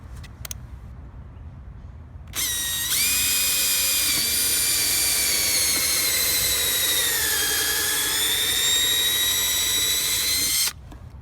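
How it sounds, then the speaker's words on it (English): A power drill pre-drilling a hole for the screw of a mailbox post support arm, running at a steady, loud whine for about eight seconds with a slight dip in pitch partway through, then stopping abruptly. "We're gonna pre-drill a hole, and then we're going to install the screw with the decorative"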